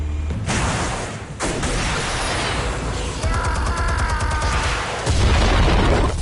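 Explosives detonating in the Batman: The Telltale Series video game, a heavy sustained rumble of blasts with bursts of crackling debris, loud and continuous, swelling again near the end.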